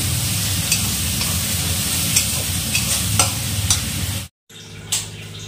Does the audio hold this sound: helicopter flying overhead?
no